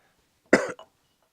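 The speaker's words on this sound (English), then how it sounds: "There's a cough." A single short cough cuts through a quiet room on a Christmas live stream, followed by a small trailing throat sound, with silence on either side.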